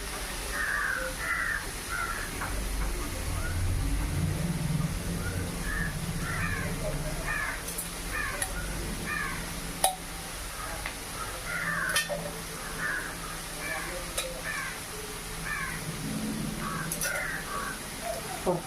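Food frying in a pan in a home kitchen gives a steady, soft sizzle throughout, while crows caw repeatedly nearby.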